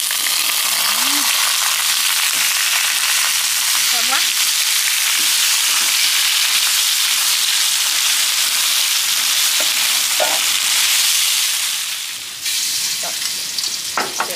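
Loud, constant sizzling of mushrooms frying in a hot pan for a Vietnamese home-cooked meal, with stirring scrapes and brief voices and laughter over the crackle.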